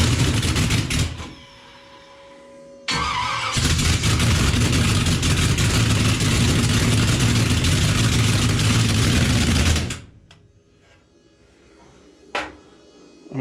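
A cold Chevy small block nitrous engine firing up for the first time, a loud, rough, buzzing run of about seven seconds after a brief false start, then cutting out to quiet with a sharp knock near the end.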